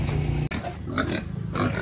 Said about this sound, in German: hier sind die Schweine